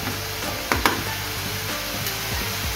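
Tomatoes roasting in a pan for a Goan sardine ambot tik, a steady low sizzle throughout with a couple of brief sharp clicks near the start.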